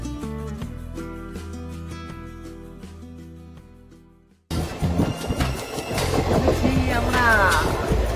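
Inside the moving Howrah–Kathgodam Bagh Express train, a loud, continuous rumble and rattle of the carriage takes over after a stretch of music.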